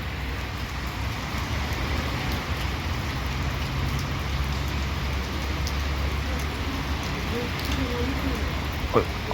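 Steady summer rain falls in a continuous hiss during a school PE class, with faint low traffic-like rumble underneath and a brief voice near the end.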